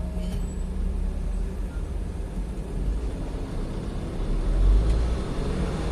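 A 2012 Nissan Grand Livina XV with a manual gearbox is driven hard in second gear, giving a steady low engine drone and road rumble that builds slightly toward the end, with no talking.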